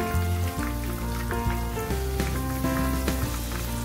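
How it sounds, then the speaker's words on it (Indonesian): Shrimp coated in flour sizzle steadily in hot oil, placed in slowly one by one, a loud continuous crackling fry with small pops close by and no talking. "Kita goreng, dimasukkan pelan-pelan, ditatain supaya tidak bergandengan"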